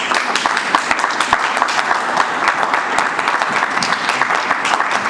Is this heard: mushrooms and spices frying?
no